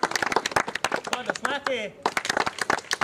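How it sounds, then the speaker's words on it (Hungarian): Audience applauding after a historical reenactment show in Szigliget, the broadband claps steady and fairly close beneath an announcer's voice that runs throughout. "köszönjük a lelkes tapsot"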